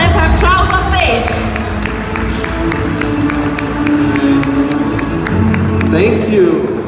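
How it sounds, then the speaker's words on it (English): An audience at the opening of a Volvo Cars repair center in Juru, Malaysia gives a round of applause, with dense steady clapping throughout and a voice speaking over it. "Let us give him a big round of applause."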